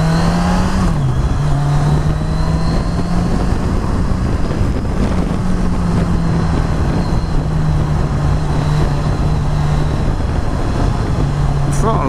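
Kawasaki Z1000 motorcycle engine pulling under acceleration, a steady rising engine note with gear-change dips, heavily masked by constant wind buffeting on a ride.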